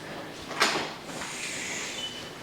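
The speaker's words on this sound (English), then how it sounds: "This door is so heavy." A heavy door swings open into a guest laundry room at a resort, a low sliding scrape with a brief thump near the start, then a steady hiss of air and machinery.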